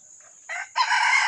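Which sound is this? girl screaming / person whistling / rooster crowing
rooster crowing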